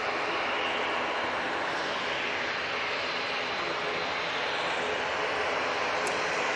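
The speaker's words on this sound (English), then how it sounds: "we've got Watermelon Airlines going back to Lisbon. Using their 320-200." An Airbus A320-200 departing Manchester Airport for Lisbon gives a steady, loud broadband jet roar that holds evenly throughout, with no voices over it.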